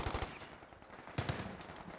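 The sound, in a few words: machine gun fire in Company of Heroes 2 video game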